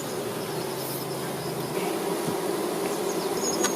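Honeybees buzz in a steady, dense drone near a hive on a bee farm, a continuous hum holding at an even level throughout with no voices.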